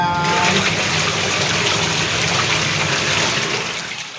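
Water rushes steadily into a laundry washer during the rinse cycle, a loud continuous gushing that tapers slightly toward the end.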